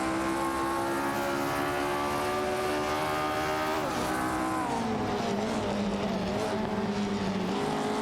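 Race car engines roar through a video game AI race with a Tecno PA68 and a Matra MS7 among the field, a steady layered whine of several engines with pitch rising and falling as they shift and pass.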